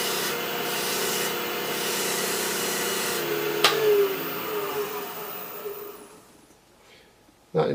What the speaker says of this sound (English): Going to increase the lathe speed a little for this and burnish.